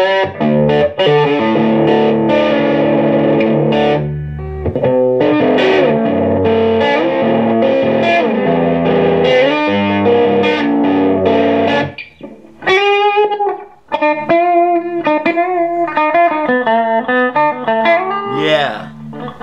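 A small Traveler electric guitar build plays through effects, distorted chords ringing out loud and close for about twelve seconds, followed by brighter single-note picking and bends.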